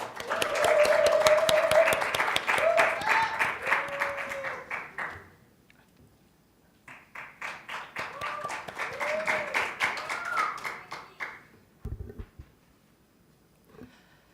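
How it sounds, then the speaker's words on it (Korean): An audience applauds to welcome a student speaker, in two bursts: about five seconds of clapping mixed with a few whistle-like tones, a short lull, then a second rougher wave that fades before a faint sound near the end. "서구 학생의 연설을 박수로 들어보겠습니다."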